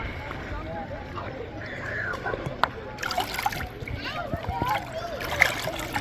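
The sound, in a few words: waterproof backpack being submerged in water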